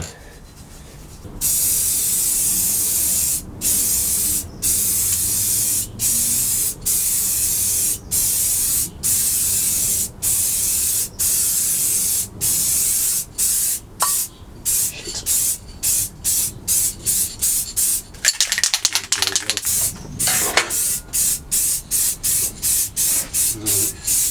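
Repeated short bursts of aerosol spray paint coating an engine during a refresh on a Mk2 Golf 16V KR, steady hissing passes broken by brief pauses, close and loud, with faint talk in places.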